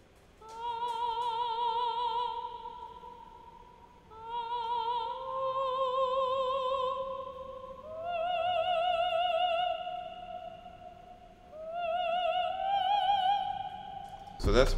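A Spanish guitar and vocal sample runs through Fresh Air, Valhalla VintageVerb reverb and RC20 on a meaty vocals preset. Four sustained melodic phrases, each several seconds long, play clearly and wash out in reverb.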